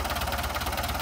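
A Yamaha Toyota 13B engine, reportedly turbocharged, runs steadily aboard a 6-ton river boat, a loud, dense mechanical drone with a fast, even pulsing throb and no voices.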